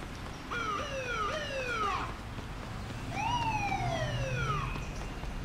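In the video game Saints Row 2, a police car siren sounds loud and close in two wailing bursts, each sweeping up and down, over a low engine rumble.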